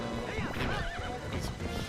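Epona, the horse in a Zelda video game, lets out a loud, close whinny with rising and falling pitch, followed by a short burst of hoof clatter, over a dense game soundtrack.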